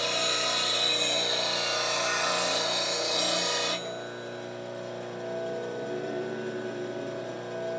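A spindle gouge is ground against a 180 grit grinding wheel, giving a steady close rasping grind for almost four seconds before the contact stops and only the wheel's lower hum keeps running.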